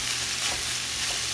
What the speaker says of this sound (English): While the chorizo continues to cook, I'm gonna move it to the side